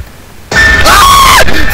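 A player screams in fright during the jump-scare horror game Stalked, a loud sustained high-pitched shriek that rises and wavers for over a second after brief silence, over game noise.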